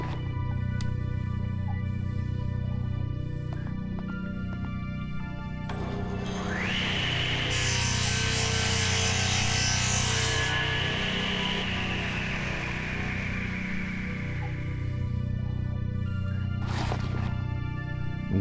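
A table saw cuts through wood in the Alpha Polaris video game, its loud whine starting abruptly and holding steady for several seconds before tapering off, over a constant low ambient hum.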